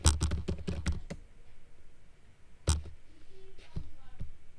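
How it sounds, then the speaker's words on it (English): Rapid keystrokes on a computer keyboard in a quiet room, a quick burst of close clicking followed by a pause and a few scattered taps. "let's type the second question"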